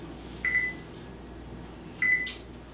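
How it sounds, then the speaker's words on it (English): Two short electronic beeps sound from a kitchen oven as it is switched on, about one and a half seconds apart, clear over a quiet room hum. "So I'm just going to turn on my oven"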